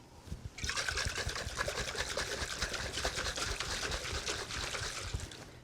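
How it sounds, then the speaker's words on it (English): Superfine caster sugar and water sloshing and rattling inside a tightly lidded jar, shaken steadily and vigorously for about five seconds as a dense, continuous churning splash, loud and close with no talking. "Put the lid on tightly"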